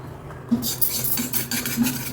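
A spoon scrapes and clinks quickly around a bowl, stirring custard powder into milk, a busy rhythmic stirring with light metallic taps, close by and fairly quiet.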